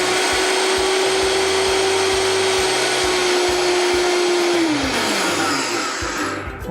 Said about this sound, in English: we're gonna put all of our seeds in here and we're gonna pulse it up